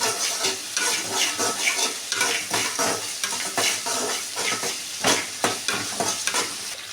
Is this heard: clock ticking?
no